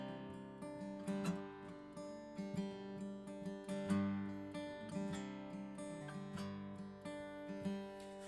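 Steady fingerpicked acoustic guitar playing It Came Upon A Midnight Clear, notes plucked mostly on the third and second strings in a gentle, even rhythm, ringing chords sustaining underneath, close and fairly soft with no talking.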